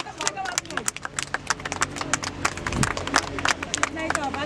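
A crowd at a music event claps hands in a dense, uneven patter of sharp slaps that keeps building, with voices heard faintly beneath.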